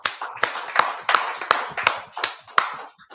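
A class audience claps at a scripture breakdown session in Charlotte, North Carolina; a string of sharp, close hand claps falls in an uneven rhythm, about ten in quick succession, with no talking over them.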